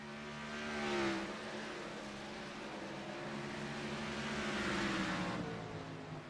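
Race cars circling a track during a broadcast GT race, a steady engine drone with shifting pitch that swells as cars pass, loud and continuous with no voices.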